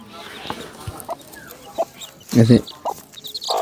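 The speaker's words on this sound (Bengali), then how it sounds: "এই যে মুরগি তার বাচ্চাগুলোকে নিয়ে দাঁড়িয়ে রয়েছে এখানে" A hen with her chicks gives short, scattered clucks at close range, with one louder burst partway through and some quiet background noise between calls.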